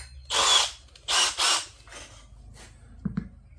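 A power drill with a 70mm hole saw bites into a plastic wheelie bin in three short whining bursts, followed by a couple of faint clicks, close and with no talk.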